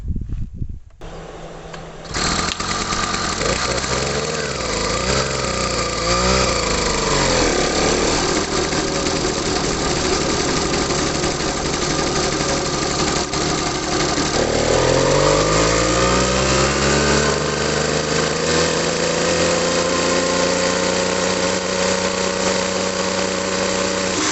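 An 80cc motorized bicycle engine with its air filter removed runs loud and close after a brief start, holding a raspy two-stroke buzz that rises and dips with revving before settling into a steady high drone.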